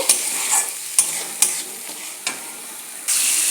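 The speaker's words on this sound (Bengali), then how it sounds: "দিয়ে মশলাটাকে আমি ভালো করে কষিয়ে নেব" Spice paste with salt stir-fried in a pan for a potato, pointed gourd and katla fish curry; a steady sizzle with a few crisp spatula scrapes, ending in a louder burst of hiss, with no talk.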